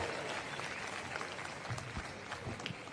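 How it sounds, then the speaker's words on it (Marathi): Crowd applause at an outdoor political rally, steady dense clapping throughout at moderate loudness, greeting a one-lakh-rupee donation. "टाळ्या वाजवून सगळ्यांनी स्वागत करावं"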